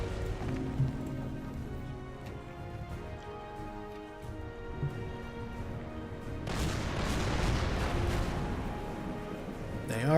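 Battleship guns fire in the naval war game Order of Battle Pacific, a low rumbling barrage that builds into a sustained loud roar in the second half over a background music bed.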